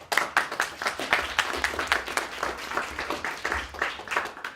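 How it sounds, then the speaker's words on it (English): A small group claps in distinct, fairly rhythmic bursts, individual hand claps audible, close and moderately loud, with no talking. "let's have a round of applause for Kendall."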